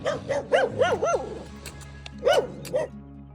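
Several dogs barking in bursts at a remote hamlet of abandoned old houses, a quick run of barks followed by a pause, then a couple more, fairly close.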